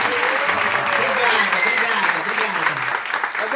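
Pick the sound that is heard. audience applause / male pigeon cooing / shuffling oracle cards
audience applause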